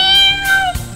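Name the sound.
kitten meowing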